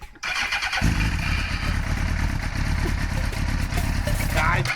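A motorcycle that has trouble starting cranks and then catches, a brief whir followed by a loud, steady close engine running with rough, slightly fluctuating idle; voices talk faintly alongside.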